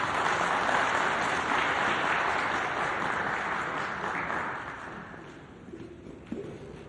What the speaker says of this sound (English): Another round of applause for Ndate Muti, ladies and gentlemen.